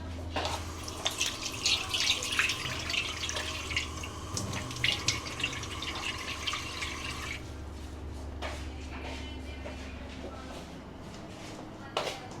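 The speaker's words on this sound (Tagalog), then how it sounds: "Tubig." Running tap water in a home kitchen while someone cooks and prepares garlic, a steady broad wash of flow under a low hum and occasional clatter, with brief talk nearby.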